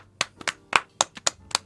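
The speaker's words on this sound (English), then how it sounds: "Everyone clap." A small group clapping unevenly for a couple of seconds, with sharp separate claps in an irregular rhythm, close by and with no talk over them.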